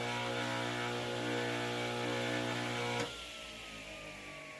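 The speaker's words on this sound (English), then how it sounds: "we will do this relatively unsafe practice to turn the saw on while we're trying to hold that down and eliminate some of that vibration" A Craftsman 8 inch direct drive table saw motor hums and rattles steadily at a loud, even pitch, then switches off abruptly and winds down into quiet.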